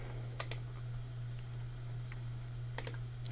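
A few sharp keyboard clicks arrive in two quick pairs over a steady low electrical hum, close by and otherwise quiet.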